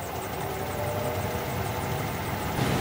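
A wood lathe spins up while a rectangular winged bowl is being turned, giving a steady, close motor hum that holds even throughout with no talking.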